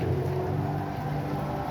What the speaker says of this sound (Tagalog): Kahit malakas ang ulan, maghapon walang hinto.